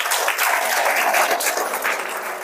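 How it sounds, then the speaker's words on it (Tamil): Audience applause after a call to clap for a great art reformer at a children's art academy exhibition, a steady dense burst of many hands clapping close by, filling the whole stretch without speech. "அவருக்கு ஒரு கைத்தட்டல் கொடுக்கலாமா?"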